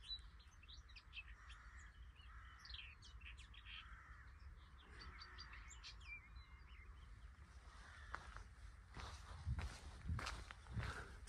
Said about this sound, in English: White throat in there chattering away.